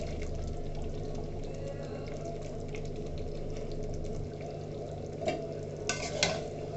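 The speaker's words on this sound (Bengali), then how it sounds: "এবার ডালটা দিয়ে সুন্দর করে কষিয়ে নিব।" Moong dal, pre-fried and pressure-cooked, is stirred in a pan with a low, steady bubbling sizzle and a few soft scraping clinks near the end, close but fairly quiet.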